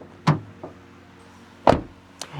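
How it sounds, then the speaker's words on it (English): A Toyota Aygo X GR Sport city car's rear door is shut: two solid thuds about a second and a half apart, each preceded or trailed by lighter latch clicks, close up and otherwise quiet. "Door shutting sound, really important on an Aygo."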